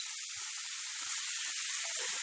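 Chopped green chilies frying in a pan with tomatoes for matar paneer, a soft, steady sizzle with faint crackles and pops, quiet and alone.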